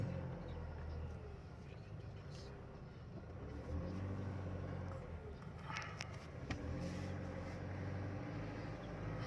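Steady low rumble of light car traffic on a newly built elevated skyway expressway, with engines and tires droning continuously at moderate distance and a few passing vehicles swelling briefly.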